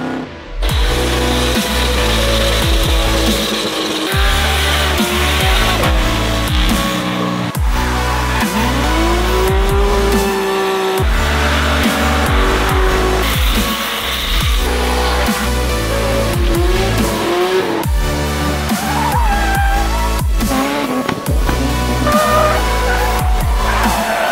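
Drift cars at a Drift Cup event on a fast European track scream at high revs with repeated tire squeals and skids, loud and continuous throughout, engines rising and falling as they slide through corners.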